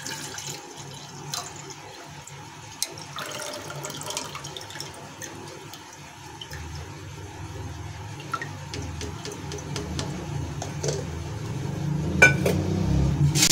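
Sugarcane juice being strained into a cooking pot on a gas stove, a steady low pouring and splashing of liquid with occasional light clinks of utensils, growing fuller toward the end.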